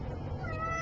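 A domestic cat gives one short meow, faint and close, over a little room noise.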